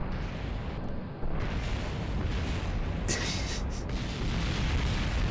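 A rocket in Kerbal Space Program slams into the ground and breaks apart, a sustained rumbling crash with scattered bursts of debris, loud and continuous with a brief hiss of pieces flying near the end.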